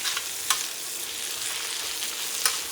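Ginger, garlic and red chili sizzle in a hot pan for ginger chicken, a steady close crackling hiss punctuated by a couple of soft stirring taps, with no talk.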